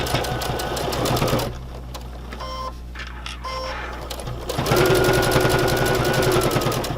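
Sewing machine stitching fabric for a mask with a filter pocket, running in two loud bursts of steady motor hum and needle clatter separated by a quieter pause of small mechanical clicks and adjustments.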